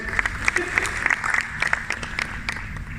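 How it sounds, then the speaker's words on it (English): Audience applause at a talk on leadership, honoring the board of directors of a blood bank: steady clapping from a crowd filling the whole clip, moderately loud with scattered sharper claps standing out. "Let's applause for them."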